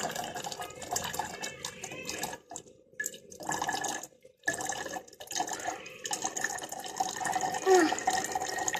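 Water runs from a household tap into bottles in a home kitchen, a soft, irregular splashing and trickling heard close by, with brief gaps between fills and faint background voices.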